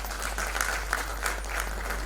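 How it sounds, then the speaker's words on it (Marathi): Brief applause at an award ceremony, a soft, steady patter of clapping from a hall audience, fairly faint and somewhat distant, over a low hum. "टाळ्या होऊन जातात"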